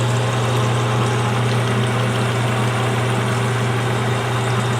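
A machine cuts flat across the front face of an aluminum part, a steady loud mechanical drone with a strong low hum running unbroken and no pauses.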